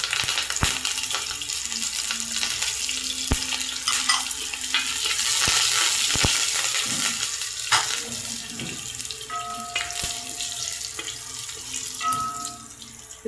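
Mustard seeds and curry leaves fry in hot oil in an uruli pan for a Kerala roasted-coconut chicken curry, giving a steady close crackling sizzle with scraping stirs and a few sharp pops, no voices.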